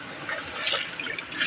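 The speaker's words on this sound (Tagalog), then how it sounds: "Lagyan mo na ng tubig kunti." A small amount of water is poured, with soft splashing and trickling in short uneven bursts, close by and fairly quiet.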